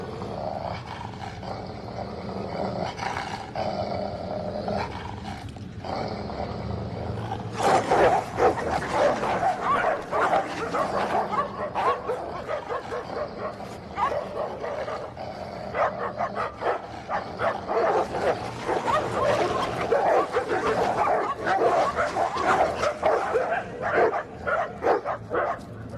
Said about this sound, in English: The battle for top rank is now between two of the most imposing breeds, the Rottweiler and the Pit Bull.